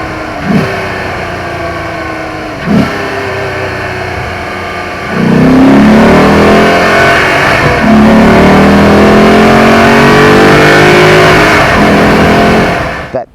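A deep Maserati GranSport V8 engine revs hard and climbs from second to fifth gear, each upshift marked by a brief dip before the growl rises again, loud and close.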